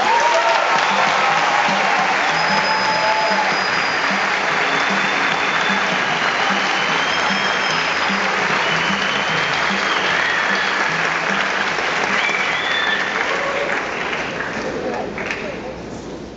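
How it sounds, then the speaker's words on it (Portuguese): A theatre audience at a film event claps steadily for a guest coming on stage, a dense, loud, sustained wash of applause that holds for many seconds before thinning slightly at the end. "E agora, com todos os nossos aplausos, vamos receber Jorge Malta"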